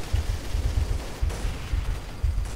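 Automatic gunfire sprays in a Counter-Strike match, coming as several rapid low, booming bursts separated by brief gaps, loud and close throughout with no talking.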